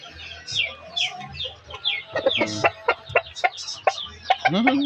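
Incubator-hatched chicks peep in quick, high, repeated bursts close by, with a few lower clucking calls mixed in and no talking.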